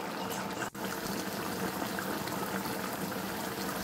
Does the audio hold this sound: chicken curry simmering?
yes